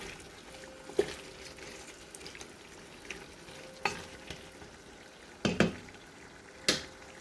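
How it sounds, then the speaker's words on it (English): A spoon stirs a pot of okra soup with meat and snail, giving occasional scraping knocks against the pot over a soft, steady simmering sizzle. "I'm going to give that a little stir."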